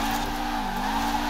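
A 1.8T-swapped 500 hp Peugeot 205 R drifts in Forza Horizon 4, tyres squealing in one continuous, close, loud tone over a steady engine roar, its pitch dipping briefly midway.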